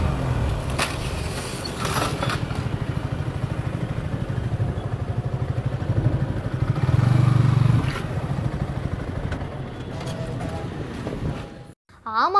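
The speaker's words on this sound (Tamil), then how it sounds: "ஆள் இல்லாமல் ரொம்ப தூரம் ஒரு வண்டி போயிட்டே இருந்திருக்கு" Riderless motorcycle running on its own along a road in Kovai after an accident, with a steady low engine drone and rattling clatter throughout, loud and close, briefly cutting out near the end.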